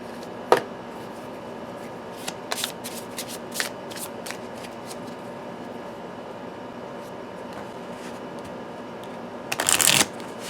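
Tarot cards are shuffled by hand nearby with soft riffles and taps, ending in a longer, louder riffle.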